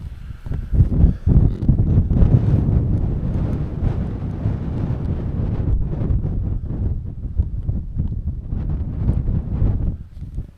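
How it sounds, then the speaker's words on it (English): Strong wind buffeting across the microphone high on Lake District fells, a continuous loud low roar with gusty surges and rumbling throughout, no voices. "Wind's getting up a bit now."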